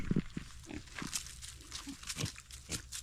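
Wild boar in the Sierra Madre mountains giving several short, low grunts at irregular intervals, faint and fairly close, with quiet background noise.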